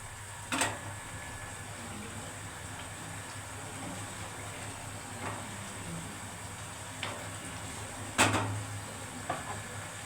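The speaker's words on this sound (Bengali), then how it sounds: "দেখো এবার ঢাকানাটা আমি তুলে দিচ্ছি কি সুন্দর ফুটি হয়ে আসছে" Lote fish jhal, a spicy Bengali curry, simmers uncovered in a pan: a steady low, soft bubbling hiss with a few faint clicks and one sharper knock near the end.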